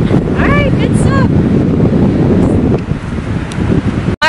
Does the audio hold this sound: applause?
no